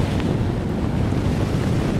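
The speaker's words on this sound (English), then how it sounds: "there's a big swell in the ocean right now" Ocean swell and surf churn steadily under a strong wind buffeting the microphone, a dense, continuous wash of noise with no voices.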